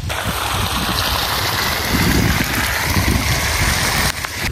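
Water pumped by a submersible pump gushes steadily into a farm field near a seedbed, a continuous broad rushing and splashing flow that stays loud and close throughout, with no talk.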